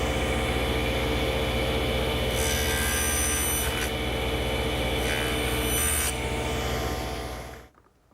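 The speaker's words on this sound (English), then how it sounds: "by simply moving my miter gauge to the other side of the blade, I'll be able to clip off the points" A table saw trims the points off a wood shelf piece, guided by a miter gauge. The loud, steady motor whine carries a rougher cutting passage partway through, then the blade spins down and fades out at the end.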